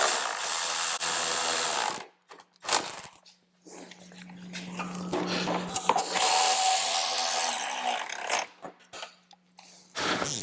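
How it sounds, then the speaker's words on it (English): A power tool and a wrench work on the bolts of a 2016 Harley-Davidson Road Glide CVO motorcycle. Loud, dense mechanical whirring and rattling comes in long bursts with short gaps, and a steady low hum runs underneath, close to the microphone. "I'm going to use a power tool to do the back ones and a wrench to do the front"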